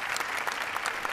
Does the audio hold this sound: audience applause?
yes